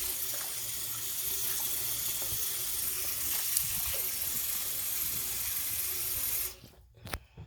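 Tap water runs steadily into a house sink as a broad, constant hiss, cutting off abruptly near the end with a few faint knocks.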